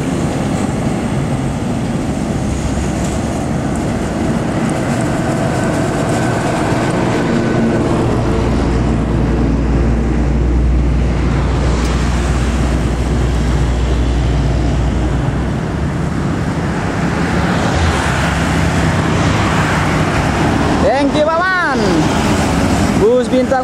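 An intercity bus from Medan rumbles into a bus terminal, a loud continuous engine drone with heavy low rumble building mid-way, under steady background noise and occasional voices nearby.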